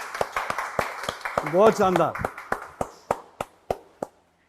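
A few people clap at a dhaba and sports academy run by The Great Khali. A string of crisp, spaced claps slows toward the end, with a voice speaking over the middle.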